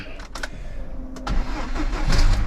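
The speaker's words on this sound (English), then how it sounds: "So we'll run round to the car, get in, and we'll see if he starts." Rover 200 BRM with the starter cranking in short bursts before the engine catches and settles into a rough, loud idle, recorded close to the car with no talking.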